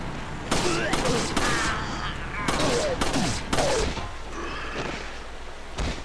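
Gunshots in the Resident Evil 4 video game, a series of loud sharp cracks in uneven bursts, mixed with shouted in-game voices.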